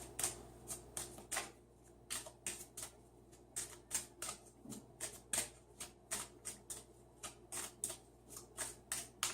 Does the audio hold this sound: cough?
no